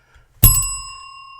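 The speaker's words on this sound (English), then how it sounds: "Why do you think I rang the bell?" A single bell, rung in a job-interview roleplay, strikes once with a bright, close ping and then rings on as a long, pure tone that slowly fades, with no talk around it.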